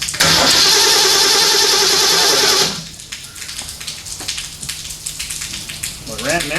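AMC 304 V8 engine cranking over on the starter without catching, a loud steady churning for under three seconds, then it stops, leaving quieter background noise with a faint voice near the end.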